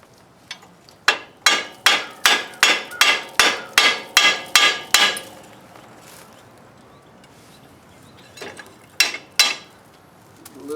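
Metal hammer striking parts on a Ford 3000 tractor lift arm: a run of about a dozen sharp, evenly spaced ringing blows, a pause, then a few more taps, close and loud with no talk.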